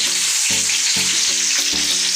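Eggs fry in a hot pan as they turn golden, giving a steady loud sizzle with crackling bursts and no voices.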